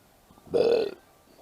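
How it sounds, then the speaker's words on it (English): A single close, loud burp from a person lasting about half a second, standing alone against a quiet room with no talking. "oops, I burped"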